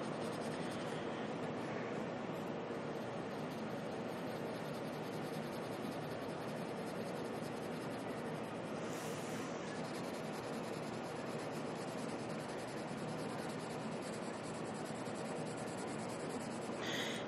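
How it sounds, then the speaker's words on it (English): Colored pencils scratch and rub across paper in steady, continuous strokes, close and soft with a faint hiss, with no talking. "These pencils work really nice on this paper."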